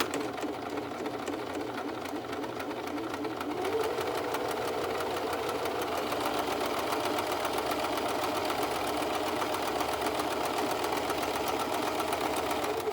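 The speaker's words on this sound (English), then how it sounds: "we're just gonna go ahead and sew along" Sewing machine stitching a fabric face mask: a fast, steady mechanical whirring with rapid needle clatter that runs continuously and close, picking up slightly partway through.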